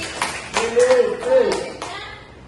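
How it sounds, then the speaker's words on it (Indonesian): A classroom gives a handful of scattered, uneven claps for a student. Voices overlap the short bursts, and the clapping fades quickly. "Tepuk tangan untuk Putri."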